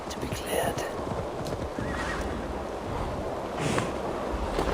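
Horse in the Assassin's Creed Valhalla video game neighing loudly, with clip-clopping hooves and a rushing ambient wash underneath, plus a second whinny near the end.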